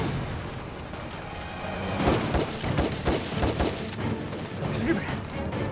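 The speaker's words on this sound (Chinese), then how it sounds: "赵旅长，从枪声来分析，恐不像是正规作战，也不是正面战场，是小股部队。" Gunfire in a Chinese wartime drama about a small-unit skirmish, with a rapid series of sharp cracks and thumps under a steady wash of background noise, no voices.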